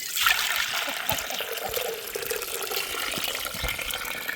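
Rice soaking water trickles and splashes steadily into a vessel, a soft continuous pour with a bright hiss, close by.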